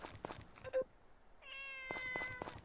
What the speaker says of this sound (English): There's a kitten that is plotting stuff.